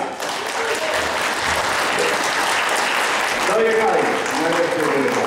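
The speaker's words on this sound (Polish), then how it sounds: "A teraz gorące oklaski dla delegacji z Gdańska." Warm audience applause for the Gdańsk delegation at a social justice movement congress in Warsaw, a dense, sustained wash of clapping from a crowd, with a voice speaking over it toward the end.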